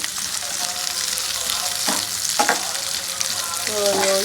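Onion, garlic, ginger, cinnamon and cloves sizzle steadily in a pan, with a few spatula stirs and scrapes breaking through the continuous frying hiss, close and moderately loud.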